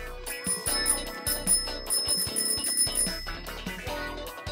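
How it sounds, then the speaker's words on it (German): A bright bell rings repeatedly in quick bursts, loud and close, with short pauses between the ringing runs. "Ich habe diese Klingel gehört."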